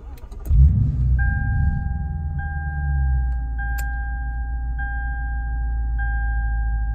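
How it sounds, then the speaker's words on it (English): A Lexus IS F V8 cranks and catches with a deep rumbling burst, then settles into a steady low idle while a dashboard chime repeats at regular intervals. "Next up, you are going to start your car."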